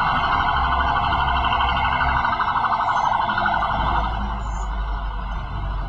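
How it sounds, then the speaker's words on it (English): An emergency vehicle siren wails steadily over low rumbling traffic, loud and close, easing slightly toward the end as it passes. "It's the sound of an emergency services vehicle, a local emergency services vehicle passing by."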